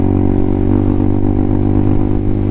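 An RPS Hawk 250 motorcycle engine drones loudly while riding, a steady low rumble with slight fluctuations in pitch and no voices.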